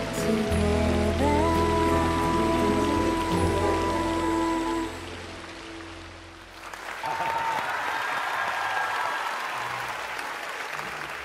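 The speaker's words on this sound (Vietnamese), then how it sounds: "Một tràng pháo tay cho Ngọc Sơn và Phạm Lịch." Audience applause after a dance performance on a televised dance competition, a dense steady roar of clapping that continues across the whole stretch while music plays underneath early on.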